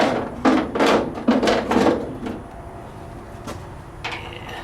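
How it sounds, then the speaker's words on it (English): A painted tailgate panel is fitted onto a Pontiac C10 truck, giving a series of close hollow knocks and clunks bunched in the first two seconds. A few lighter taps and a short scrape follow over a quiet background. "I'm going to go ahead and put the tailgate panel on carefully"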